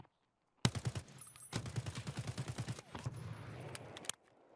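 Rapid bursts of gunfire in the video game Escape From Tarkov, loud and close, firing in quick rhythmic volleys with a short pause between strings of shots, then fading into quieter rattling.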